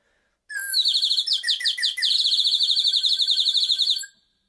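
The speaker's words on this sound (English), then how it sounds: "This one is a nightingale call." A water-filled nightingale bird call whistle warbles in a loud, close, rapid trill of bubbling chirps for about three and a half seconds, starting abruptly and stopping cleanly, with no other sounds.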